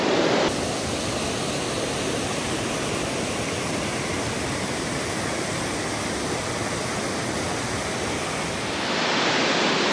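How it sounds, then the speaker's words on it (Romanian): Roaring waterfall at Plitvice National Park, a loud, steady broadband rush of falling water that fills the whole stretch without a break, no voices over it. "cascada."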